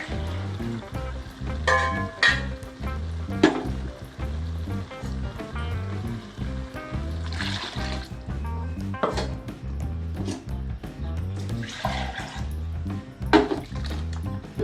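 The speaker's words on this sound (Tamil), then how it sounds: "தேவையான அளவு தண்ணி ஊற்றிக்கலாம்." Water is poured into a simmering kovakkai (tindora) curry, a continuous liquid splashing and trickling under clinks of utensils and pan knocks throughout.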